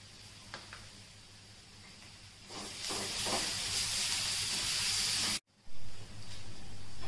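Garlic ginger paste frying in a pan for an egg roast, a loud steady sizzling hiss that swells after a few seconds, cuts out abruptly for a moment, then resumes more quietly.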